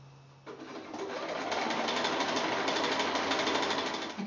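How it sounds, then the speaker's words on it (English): A sewing machine runs steadily, stitching the two longer sides onto a small quilt block's centre square, its rapid needle chatter starting after a brief pause and continuing loud and close with no talk. "then I'm going to sew the 2 longer sides on"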